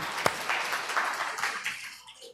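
A church congregation applauds together in a short burst of clapping that fades out toward the end.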